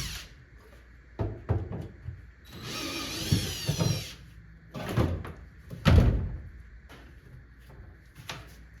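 A power drill backs out flathead screws from the interior of a 1949 Plymouth coupe, with a sustained whirring burst and several short spins between clunks and knocks, close by and fairly quiet.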